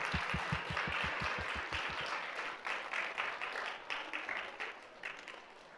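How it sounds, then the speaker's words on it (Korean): Audience applause at a church youth group graduation and orientation ceremony, welcoming new members; a dense, steady wash of clapping fills the room, with a few low thumps at the start, and continues at a fairly even level throughout. "우리 박수로 환영합니다"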